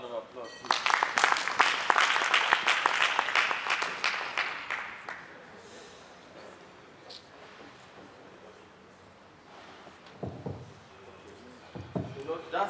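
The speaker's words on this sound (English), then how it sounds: "Let's give you another round of applause." Applause from an audience at a training session swells for about five seconds and dies away, followed by quiet room tone and a couple of sharp knocks near the end, with talk under it.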